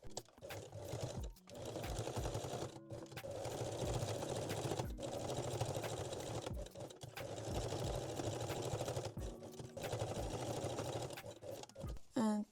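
A sewing machine runs straight-stitch seams on panties in steady whirring bursts, each a few seconds long, separated by short pauses and clicks as the fabric is repositioned, close and clear with no talking.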